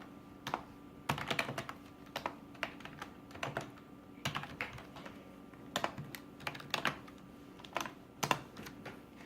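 Keys clatter on a computer keyboard in quick, uneven bursts with short pauses between, close and fairly quiet, with no talking.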